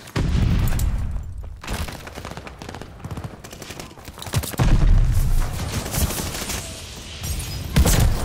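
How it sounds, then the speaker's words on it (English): Rapid bursts of automatic gunfire and booming shots from a first-person shooter video game come in dense, loud volleys with short gaps, while voices talk over the action. "Shoot my gun."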